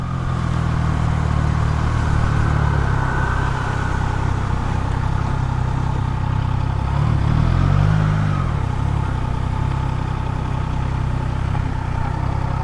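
A Triumph Trident 660 motorcycle rides along a street, its engine droning steadily and loudly throughout with a brief rise in revs partway through, heavy wind rush over the top.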